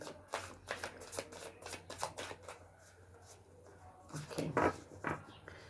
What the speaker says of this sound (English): These cards, sometimes they don't want to be shuffled